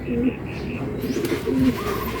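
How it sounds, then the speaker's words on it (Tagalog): Racing pigeons arriving at the loft after a hard 219 km race, soft cooing and fluttery calls close by over a dense background hum, no talk. "Ito, may ibon na tayo."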